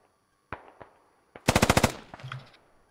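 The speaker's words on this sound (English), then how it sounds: "Sugard up here with the GPMG. Managing to control his recoil pretty effectively for not having his bipod out." A GPMG machine gun in the video game Squad: a few scattered single shots, then one tight burst of about seven rapid rounds, followed by fainter distant firing, with no talking.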